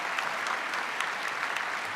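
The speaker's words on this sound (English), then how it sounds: "Give yourself another round of applause." Graduates and guests applaud at a George Brown College convocation, a steady, even round of clapping from a large crowd with distinct individual claps sprinkled through, moderately loud and uninterrupted by speech.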